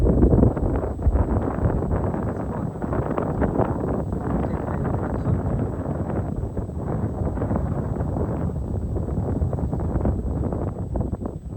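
Cool wind blows across a hillside rice field in the mountains, a steady, dense rush with microphone buffeting that fills the whole stretch.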